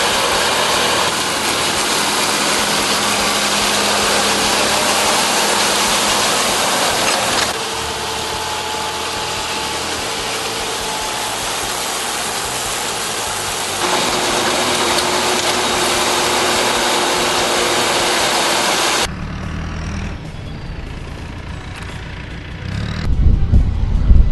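A round baler picks up rows of wheat straw and compacts them into round bales, giving a loud, steady mechanical engine drone with slight shifts in tone, then dropping to quieter, irregular machine noise near the end.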